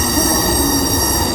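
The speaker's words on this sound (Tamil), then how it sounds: "நம்மளை ஏற்றிட்டு போகிறதுக்கு ட்ரெயின் வந்துக்கிட்டு இருக்கு" Train on the Jaffna to Vavuniya line arriving at a station: a loud, steady close rumble of rolling wheels with high metallic squealing, no voices.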